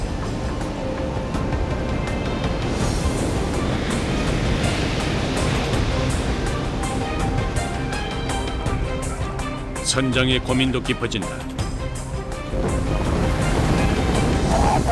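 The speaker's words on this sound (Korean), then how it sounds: "대구잡이 어선은 파도에 휩싸여 이리저리 요동친다." Rough sea waves pound a cod fishing boat in strong wind, a continuous loud roar of surf and churning water around the hull, with a narrator speaking over it.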